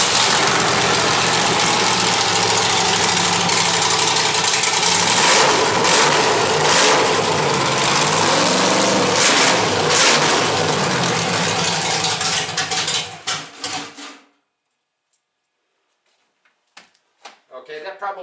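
A car engine revs hard inside a garage, a loud sustained roar that rises and falls with throttle for about fourteen seconds before cutting off abruptly, followed by a few faint knocks.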